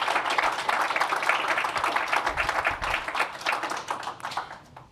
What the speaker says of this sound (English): please join me to give a round of applause to Dr.